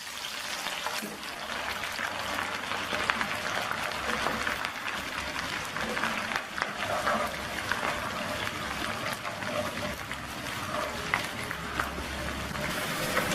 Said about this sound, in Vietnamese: Bây giờ chảo dầu nóng rồi, em cho tỏi vô chiên lên này.